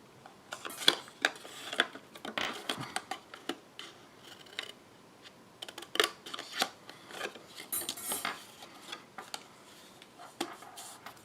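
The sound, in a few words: scissors cutting card stock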